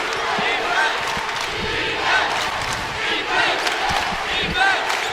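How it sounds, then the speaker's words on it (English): Basketball arena crowd roaring steadily through a women's college game between UConn and Tulane late in the fourth quarter, a dense continuous din with swelling peaks and a few sharp shouts. "This crowd is inspired."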